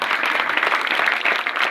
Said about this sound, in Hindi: हम कलाकार तरसते हैं आप सबकी जोरदार ताली के लिए